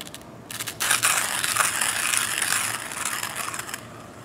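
A Kingrinder P2 hand coffee grinder is cranked, giving a steady crunching, ratcheting grind of burrs crushing beans that holds up close and fairly loud for about three seconds after a short start.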